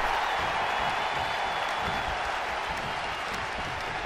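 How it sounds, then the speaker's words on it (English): A packed arena crowd at the 1995 Royal Rumble wrestling event roars and cheers in a steady, dense wash of noise that holds loud and unbroken throughout. "Just listen to the crowd."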